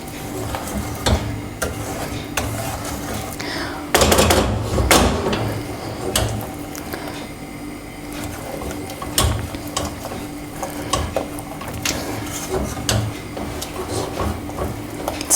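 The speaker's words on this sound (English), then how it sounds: "I can feel I'm having to stir a little bit harder" Thick, Christmas-scented play dough stiffening in a pan is stirred with steady scraping and clicking strokes. Several louder knocks and scrapes land partway through, and no one speaks.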